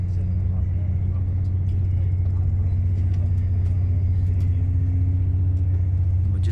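A CrossCountry Class 221 Super Voyager diesel train pulls out of York, with a constant low engine rumble and a slowly rising drone as it gathers speed.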